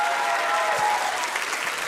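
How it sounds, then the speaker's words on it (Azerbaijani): An audience applauds an academic at a comedy show, a steady, dense round of clapping filling the room for the whole moment with no voices on top. "Akademik alqışlayaq"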